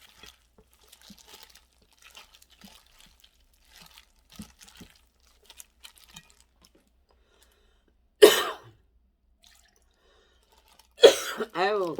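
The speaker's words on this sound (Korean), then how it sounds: "아유 기침이 나네요." Two sharp, loud coughs break a mostly quiet stretch, several seconds apart, the second followed by a brief throaty vocal sound.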